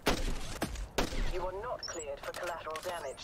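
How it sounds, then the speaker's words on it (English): Video game gunfire sounds as several sharp, loud shots in quick succession, mixed under a person talking over the game. "I'm actually just firing bullets right now."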